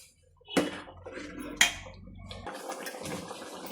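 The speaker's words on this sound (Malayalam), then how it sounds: "ഇതിനകത്തോട്ട് കുറച്ച് വെള്ളം കൂടെ വേണം, ആവശ്യമുണ്ട്. കുറച്ച് വെള്ളം കൂടെ ഒഴിക്കാം" Water poured into a pot of sambar, heard as splashing bursts with a sharp splash near the middle, then a softer continuous pouring trickle.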